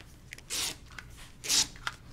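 Two crisp scissor cuts through quilt block paper, each a short rasping snip, close and clear against a quiet room, with a few faint ticks in between.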